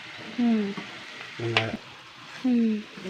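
Food sizzles in hot coconut oil in a pan, bursts of frying rising and falling as it is stirred, with a sharp clatter in the middle and a steady hiss beneath.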